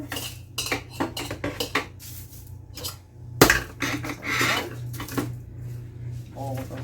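Dishes and glass jars clatter into a kitchen sink in a run of sharp, irregular clinks and knocks, close by, with a low steady hum underneath and a person talking between the clatters.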